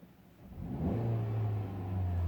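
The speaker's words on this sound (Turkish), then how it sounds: "Bakın araba çalışıyor" A Hyundai i20 car engine starts up and settles into a steady low hum, rising slightly as it revs, heard close with no talking.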